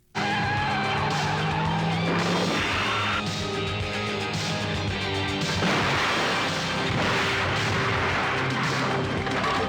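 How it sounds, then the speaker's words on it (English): Film stunt of a car skidding and flipping off a bridge in the action movie Cyclone, heard as loud tire screeching and engine roar with crashing impacts and dramatic music, dense and continuous with no talk. "This one with the car flipping off the bridge is awesome."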